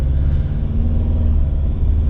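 A car engine fitted with a Bluespark plug-in power module revs and accelerates. It makes a steady, loud, close-up low rumble with no talk over it.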